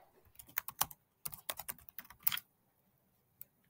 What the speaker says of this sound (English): We will type in our product.